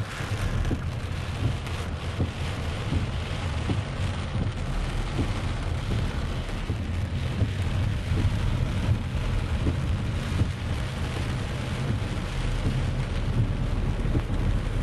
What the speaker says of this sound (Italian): c'è chi si è trovato di fronte a una vera e propria tromba d'aria che ha scoperchiato la sua attività